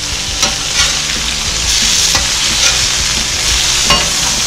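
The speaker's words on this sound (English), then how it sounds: "Alright, give your burger a flip." A burger patty sizzles steadily in a hot pan after being flipped, with a loud continuous fry and several sharp scraping, stirring clatters on top, no talking.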